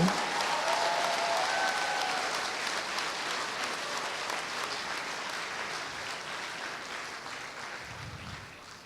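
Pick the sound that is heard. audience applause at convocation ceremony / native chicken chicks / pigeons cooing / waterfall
audience applause at convocation ceremony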